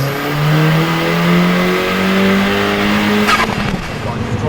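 A 450HP VW Caddy van with an S3 engine swap accelerating hard from inside the cabin: a loud, sustained engine drone climbing in pitch, then popping exhaust crackles as the throttle lifts near the end.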